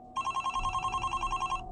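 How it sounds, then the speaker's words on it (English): A telephone rings in a fast, trilling electronic burst that lasts about a second and a half. It is a sound effect inside the narration of a night-shift horror story set in a store. "Around 9 or 10 at night, the phone started ringing."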